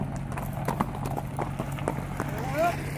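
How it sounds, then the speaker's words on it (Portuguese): Horse hooves clip-clopping at a ranch, a steady rhythmic series of close knocks at walking pace under a low engine-like hum, with a short vocal sound near the end. "Ele vai a cavalo, ele vai a cavalo, o cavalo tá comigo."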